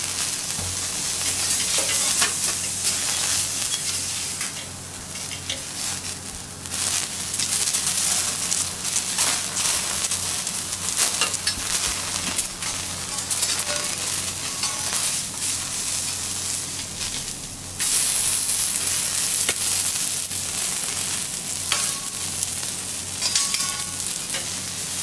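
Butter and soy sauce sizzling loudly on a teppanyaki grill at a live cooking show, a continuous dense hiss with scraping and clattering of spatulas and brief surges in intensity.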